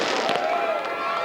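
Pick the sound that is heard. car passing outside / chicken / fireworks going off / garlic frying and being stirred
fireworks going off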